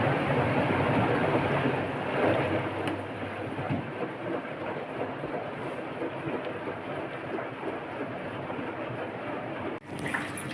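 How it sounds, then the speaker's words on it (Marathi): A Haier washing machine running a self-clean cycle hums and churns steadily with a rumbling motor and swishing water, broken by a brief thump near the end. "आता ह्याचं प्रेशर पण जास्त आहे त्यामुळं मग आवाज तुम्हाला येत असेल इथं थोडंफार"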